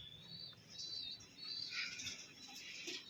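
Pigeons in a loft, Roman pigeon chicks among them, give a steady murmur of soft chirps, calls and wing flutters close by, with no one speaking.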